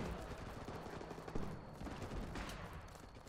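Sustained gunfire in the war game Running With Rifles, dense overlapping rifle and machine-gun bursts forming a continuous roar, with sharper nearby shots standing out around the middle.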